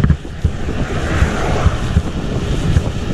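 Water lapping and washing along a lake shore, a continuous rough wash mixed with wind buffeting the microphone, fairly loud and close with no voices.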